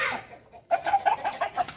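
Chickens and roosters, including a fighting rooster, cluck in a backyard henhouse in a quick series of short, moderately loud calls after a brief quieter stretch.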